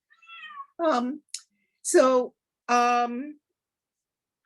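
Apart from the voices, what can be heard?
cat meowing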